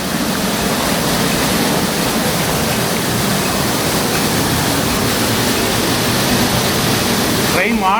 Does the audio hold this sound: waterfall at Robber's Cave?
yes